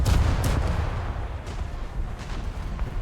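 Torpedo hits on the Scharnhorst battleship in a naval video game, heard as a dense, rumbling wash of booming blasts and crackling impacts, loudest at the start and then rolling on steadily without pause.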